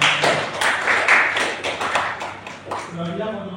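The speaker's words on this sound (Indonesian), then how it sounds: "kita berikan tepuk tangan untuk kelompok satu" A classroom of students claps for the first presentation group, giving a burst of scattered, overlapping hand claps over roughly three seconds before a voice speaks at the end.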